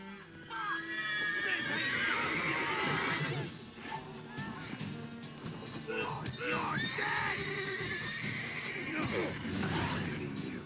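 A horse in The Witcher 3 gives several loud, shrill neighs and whinnies, with hoof clip-clop and game commotion mixed in and people talking over it.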